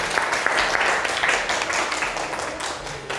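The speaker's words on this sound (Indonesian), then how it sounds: "Ya, tepuk tangan." Students in an Indonesian classroom give a steady, fairly close round of applause after a group presentation on drawing cylinders, dense clapping sustained throughout.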